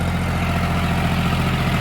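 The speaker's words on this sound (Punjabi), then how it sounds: "ਟਰੈਕਟਰ ਆਰਾਮ ਨਾਲ ਚੱਲ ਰਿਹਾ ਦੇਖੋ ਜੀ" A John Deere tractor engine idles steadily, a constant low diesel rumble with an even throb and no pauses, with an 8-foot rotavator attached.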